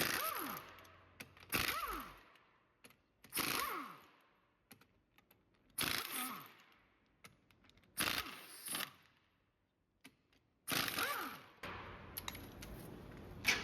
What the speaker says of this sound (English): And then we go ahead and take our wheel nuts off.